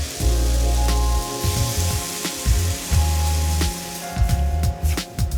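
Butternut squash, onions and peppers sautéing in a hot pan, a steady loud sizzle with crackling spatter and a few clanks of a utensil stirring, no talking.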